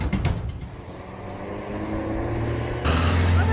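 A car pulls away and speeds off, the engine note building steadily before jumping louder as it accelerates hard close by, with no voices.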